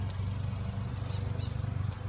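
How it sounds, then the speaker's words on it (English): A lawn mower mowing a yard nearby, a steady low engine drone with a pulsing rumble that continues throughout, heard from some distance with no speech. "sorry about the noise, but I got my son mowing the yard."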